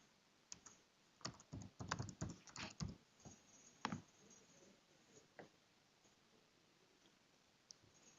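Email and password typed on a computer keyboard, a quiet close burst of irregular key clicks that thins out to a few isolated taps.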